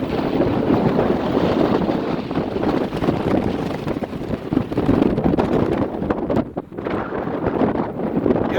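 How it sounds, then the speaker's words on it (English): Wind blowing hard beside the flooded Great Miami River after record rain, a loud continuous roar buffeting the microphone for several seconds, with no clear talking. "Yes, it's windy out here."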